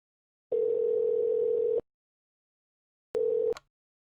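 A telephone dial tone heard while placing a call, a steady electronic tone holding for over a second, then silence, then a second shorter burst that cuts off with a faint click.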